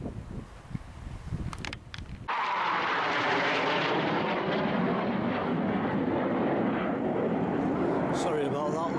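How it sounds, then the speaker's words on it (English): A low-flying aircraft passes overhead as a sudden, loud, broad roar that starts after a couple of seconds of wind and rustling, then stays heavy and sustained to the end. "Sorry about that low-flying aircraft."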